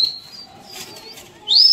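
Pigeons released into the air during a rooftop pigeon-flying contest, giving brief soft wing flaps and a whistle-like flutter, with a louder burst of flapping near the end.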